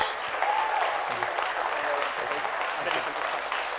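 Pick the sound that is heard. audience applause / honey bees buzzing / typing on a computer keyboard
audience applause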